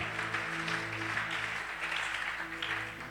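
Worshippers in a church service applaud for the Lord. The clapping is soft and continuous, with a steady, even texture and a faint tonal hum running beneath it.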